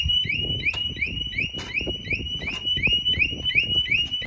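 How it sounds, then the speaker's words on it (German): A Kawasaki VN15 motorcycle's alarm system blares loudly, a repeating rising electronic whoop cycling rapidly over a rumbling background. "Das Ding hat auch Alarmanlage, die ging erstmal direkt los."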